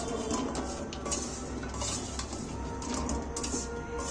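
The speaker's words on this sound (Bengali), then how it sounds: "এক চামচ সোয়া সস দিচ্ছি এইভাবে আমি এইটাকেও ফের নাড়াচাড়া করে নিচ্ছি একটু" Chicken sautéed with a spoonful of soy sauce gets stirred around a pan, a busy mix of scraping and metal clatter over a soft sizzle, close by and without any voice.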